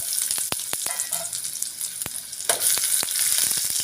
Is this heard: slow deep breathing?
no